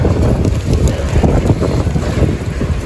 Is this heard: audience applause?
no